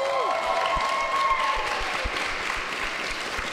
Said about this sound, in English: please give yourselves a round of applause for all of your hard work up to this weekend and the 2 days